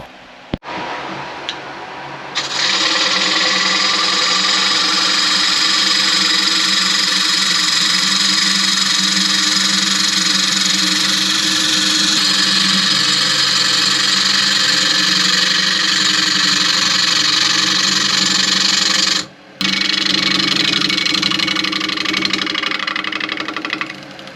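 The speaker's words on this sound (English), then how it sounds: "I got to run over and sharpen my gouge." A woodturning gouge is ground on a powered sharpening wheel, producing a loud, steady motor hum and grinding drone that starts abruptly, runs continuously with a brief cut near the end, then stops, with no talking.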